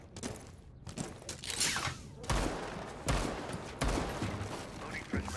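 Video game gunfire crackles in bursts, with several sharp, loud shots and short volleys separated by brief gaps, and faint voices underneath.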